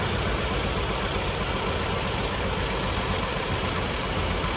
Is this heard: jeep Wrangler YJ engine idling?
yes